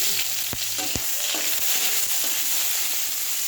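Chopped onion fries with cumin in hot oil, giving a steady close sizzle with a couple of sharp utensil taps early and light stirring throughout.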